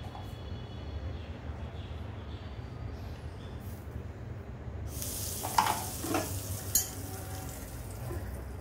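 Asafoetida dropped into heated oil, a soft low sizzle that rises with brief crackling pops partway through, faint and close with no talking.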